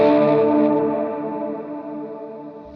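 A single electric guitar chord, played on the bridge and neck pickups together, rings out with a shimmering, wavering chorus effect, slowly fading before a brief noise at the end.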